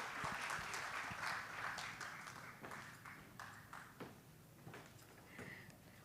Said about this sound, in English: once again, round of applause for the first session